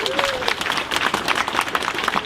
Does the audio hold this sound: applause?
yes